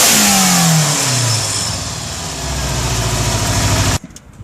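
Tuned Weber sidedraft carburettors on a stock VW Golf MK2 engine rev sharply and fall straight back, a loud nearby blip that drops to a settling idle before cutting off abruptly.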